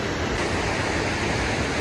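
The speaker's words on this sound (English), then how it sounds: "I just stopped to admire this beautiful waterfall behind me" Steady, dense rushing roar of a waterfall beside a roadside stop in Canada, a continuous broadband wash of falling water close by with no voices.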